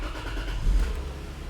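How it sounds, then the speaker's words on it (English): A Lexus IS300 SportCross engine turns over and catches, a short low rumble swelling briefly before settling into a steady hum. "Turn the car on."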